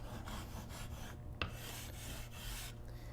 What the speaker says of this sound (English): grind down the corners of your stone